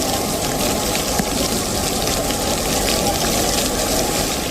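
Heavy monsoon rain and floodwater around a temple complex in Chittoor, Andhra Pradesh, a loud continuous rush and gush of pouring, flowing water, with a voice talking faintly beneath it.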